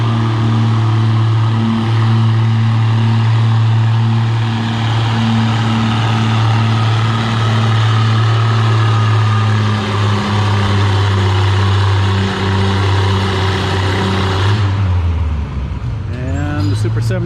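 A pulling tractor's engine roars loud and steady at a national fall tractor pull, holding a strong droning tone for about fifteen seconds before dropping away abruptly near the end.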